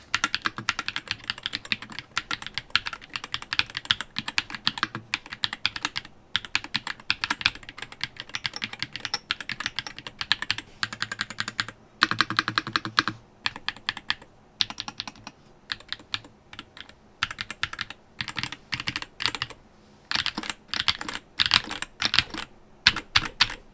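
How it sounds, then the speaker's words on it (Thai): Steady, fast typing on a Madlions Nano68 Pro magnetic mechanical keyboard, a dense stream of crisp key clacks with brief pauses, close and continuous. "เดี๋ยวมาฟังเสียงการพิมพ์ของเจ้า TDC Uranus ตัวนี้กันครับ"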